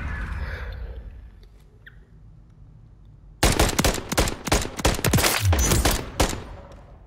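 Gunfire in Call of Duty MW3 ranked play breaks out suddenly after a quieter stretch, a rapid run of loud, close shots in uneven bursts lasting several seconds, with no talk over it.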